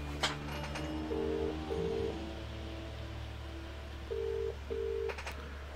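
Touch-tone keypad beeps as a telephone number is dialed in the FMV game Contradiction, two pairs of short steady tones separated by a pause over a low background hum.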